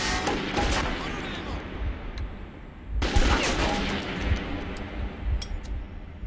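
Automatic weapon fire in bursts from the video game Metro 2033, loud sharp volleys at close range with echoing resonance, two main bursts separated by a brief pause.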